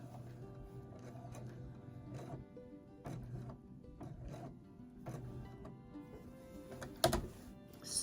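An old Husqvarna Viking sewing machine stitches embroidery around a flower, a steady near mechanical whir with a periodic clatter, holding a soft even level throughout and ending in one sharper knock.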